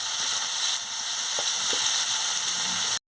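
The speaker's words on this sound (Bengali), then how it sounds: "আমি ভালো করে আলু আর পটলটাকে ভেজে নিচ্ছি" Potatoes and pointed gourd fry in a pan, a loud, steady hiss of hot oil with a couple of faint stirring knocks, alone without talk, cutting off abruptly at the end.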